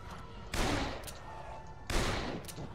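Two sharp, loud gunshot bursts about a second apart in the video game Dead Island, each with a ringing echoing tail over a steady background hum.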